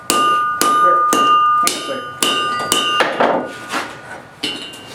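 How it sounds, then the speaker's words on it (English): Sharp metallic hammer strikes ring out in a steady rhythm, about six loud clanging blows with bright ringing overtones, followed by rougher, scraping knocks. "Like keep hammering down on top"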